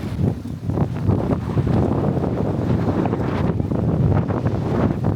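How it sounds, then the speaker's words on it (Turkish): Wind gusts buffet the microphone outdoors at sunset, a continuous rushing roar with uneven surges and no speech. "Hava çok güzel şu anda. Çok güzel esiyor"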